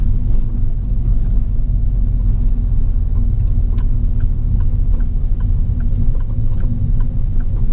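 A car engine hums and rumbles low and steady as it pulls away in second gear during a UK driving lesson, with faint ticking clicks over the constant drone and no talk.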